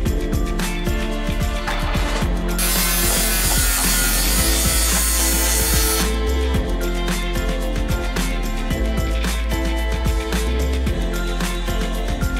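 Wooden stairs being sanded: continuous harsh scraping and rubbing with a rapid rhythmic pulse, close and loud throughout, with a brighter hissing stretch early on.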